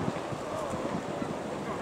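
Wind blowing across Norman Park in Bromley, a steady low whoosh with broadband rush and soft gusty fluctuations, fairly faint and continuous, with no speech.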